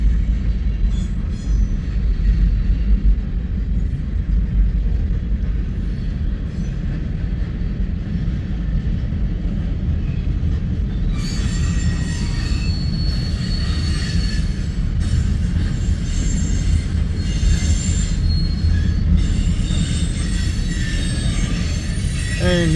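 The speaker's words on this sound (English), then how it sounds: "And that is the end of our westbound manifest heading to Bailey." A long westbound manifest freight train rolls past at Fremont, Nebraska, a continuous heavy rumble of cars that turns into high, wavering wheel squeal for the second half, loud and nearby.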